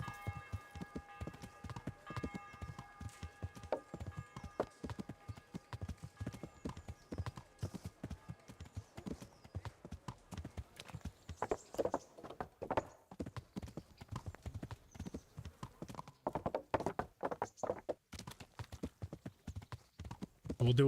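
Rapid clip-clop of a galloping horse in the video game Kingdom Come: Deliverance runs throughout, steady and close, with scattered voices and background game noise mixed in.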